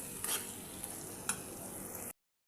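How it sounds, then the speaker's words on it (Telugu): A spoon scrapes and stirs through a thick potato curry in a pan, with soft sizzling underneath and a few clinks, then sudden silence. "ఇప్పుడు దీన్నంతా బాగా కలబెట్టేసేయండి"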